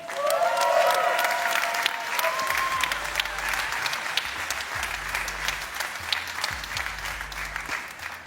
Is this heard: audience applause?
yes